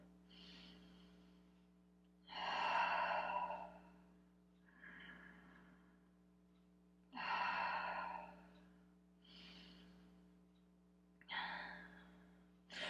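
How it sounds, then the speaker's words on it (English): Deep breathing during a Pilates workout: slow, loud breaths in and out at close range, about five long breaths spaced a couple of seconds apart over a low steady hum. "Taking some breath here."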